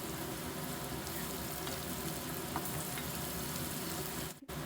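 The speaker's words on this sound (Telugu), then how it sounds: "ఇప్పుడు ఈ స్టేజ్లో ఒక ఫుల్ స్పూన్ అల్లం వెల్లుల్లిపాయ పేస్ట్ వేసుకుందాము" Ginger garlic paste frying in oil for a village-style spicy chicken curry, making a dense, steady sizzling crackle heard close up and alone, with a brief dip at the very end.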